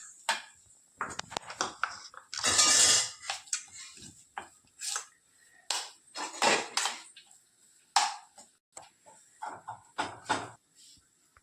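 Chopped cashews and almonds being stirred into cocoa and jaggery in a bowl, with intermittent clinks and scrapes of a spoon against the dish, close and fairly quiet.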